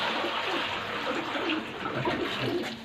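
Water splashing and pouring steadily for pigeons to bathe in, a continuous broadband wash filling the whole stretch with faint pigeon cooing mixed in.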